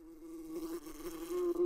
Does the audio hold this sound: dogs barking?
no